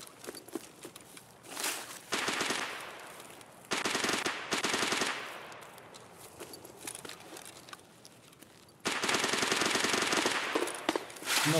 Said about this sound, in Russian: а там как раз стрельба